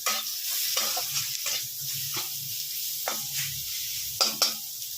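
Chopped tomatoes go into bitter gourd frying in a pan, giving a steady close sizzle broken by several sharp scraping stirs of a spatula, with no voices.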